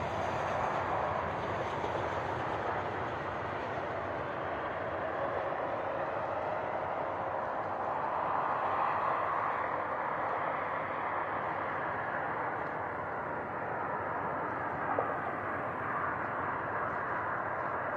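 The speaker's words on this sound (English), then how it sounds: "we ride the most scenic train in America, the California Zephyr" The California Zephyr passenger train rolling along the rails, a continuous low rumble and rushing hiss heard steadily from inside the moving car.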